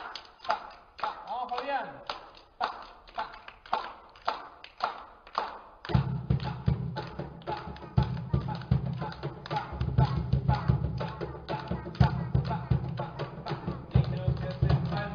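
Rhythmic hand clapping keeping a steady pulse at a music education conference, sharp regular claps at first, then joined by a denser, fuller layer of group clapping and low thumps, with a voice calling out briefly.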